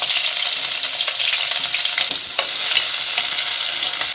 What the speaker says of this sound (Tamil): இது கொஞ்சம் அப்படியே வந்து நல்லா கொஞ்சம் பொன்னிறமாக நல்லா வதக்கிடணும்